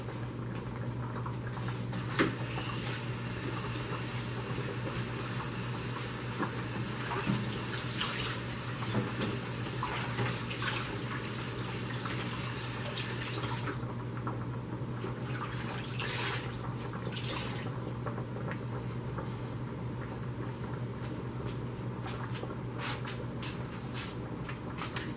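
A pot of smothered liver and onions comes to a boil on a home stovetop, giving a steady close bubbling and simmering hiss that runs continuously with small pops and no talking.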